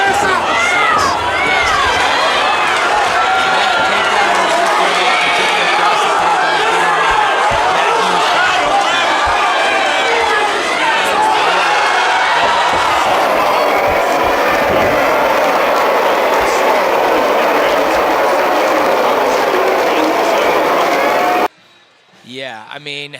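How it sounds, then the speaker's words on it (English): Capacity crowd at a CageZilla 80 MMA event after a super lightweight title bout, a loud, dense roar of cheering and shouting that stays sustained before cutting off abruptly near the end. "This capacity crowd is going nuts, guys."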